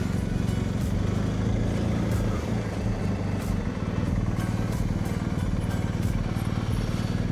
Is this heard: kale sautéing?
no